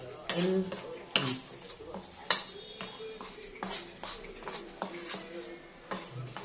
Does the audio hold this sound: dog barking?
no